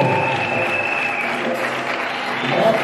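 Steady applause from wedding guests during a ceremony, a continuous broadband patter of many hands at moderate loudness with a faint murmur of voices underneath.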